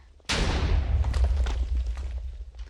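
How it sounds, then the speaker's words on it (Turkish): A loud blast in Minecraft goes off suddenly and close, with a sharp onset followed by a long rumbling roar and scattered crackling debris that slowly fades. "Yanına düşünce patlıyor."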